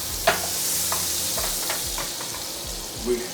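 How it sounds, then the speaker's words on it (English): Ribeye steak sizzles in a pan of pure melted butter, a steady frying hiss with a few soft scrapes and taps of utensils, close and moderately loud, no talking. "এই বাটারের মধ্যে কিন্তু এখন আমি স্টেকটাকে দিব"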